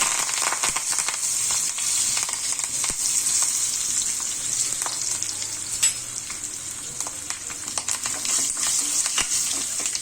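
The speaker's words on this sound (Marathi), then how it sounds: "राई तडतडली आहे बघा" Mustard seeds crackle and pop in hot oil with cumin, asafoetida and curry leaves, a dense steady sizzle with sharp scattered pops, close and loud throughout, no voices.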